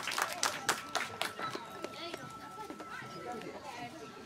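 A crowd at a lively gathering breaks into scattered clapping, sharp distinct claps at first that soften into a looser patter, with voices and chatter running underneath.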